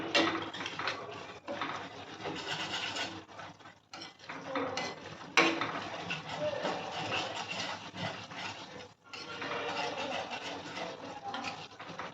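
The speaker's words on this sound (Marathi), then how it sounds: "आणि हा तुपामध्ये आपल्याला छान फुलेपर्यंत परतून घ्यायचं आहे आपल्याला आणि हलवत राहायचं आहे" A spoon keeps scraping and stirring moong dal in ghee in a metal pan, a steady close clatter with brief pauses throughout.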